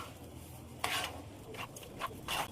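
A spoon scrapes and rubs through a semolina mixture with milk and sugar in a pot, several short stirring strokes close up, fairly quiet, with no talking.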